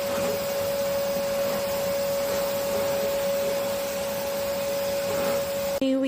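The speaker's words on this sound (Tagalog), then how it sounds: "Vacuum na lang ang kailangan natin." A vacuum cleaner runs steadily while cleaning a bedroom, a continuous broadband motor roar with a strong steady whine, loud and close, cutting off abruptly near the end.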